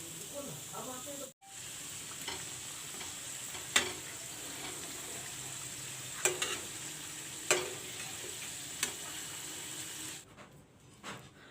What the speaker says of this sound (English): This is how I will fry all the rolls.